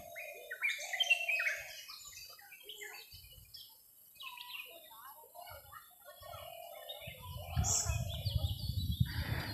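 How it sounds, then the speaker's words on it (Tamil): Sparrows and other small birds chirp and twitter in a Western Ghats forest, bright calls scattered near and far with quiet gaps, while a voice speaks softly underneath and a rustling rises toward the end. "காட்டுக்குள்ளே இருக்கிற குருவிகளோட சத்தம், பூச்சிகளோட சத்தம் மட்டும்தான் கேட்குது."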